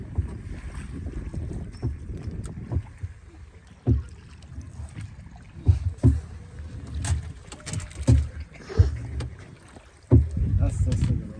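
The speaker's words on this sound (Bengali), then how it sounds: "আমরা আজকে বোট চালাইতেছি, এই দেখেন নৌকা লইছি, ভাড়া লইছি" A rented rowboat moves across Hainault Forest lake, with low, uneven splashes and knocking from oars and hull, wind buffeting the microphone, and occasional voices.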